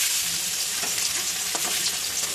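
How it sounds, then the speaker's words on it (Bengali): Fish pieces sizzle steadily in hot oil dusted with turmeric powder, a continuous close crackle with soft popping and occasional stirring scrapes, no voices. "এই মাছগুলো লাল করে আমি ভেজে নেব।"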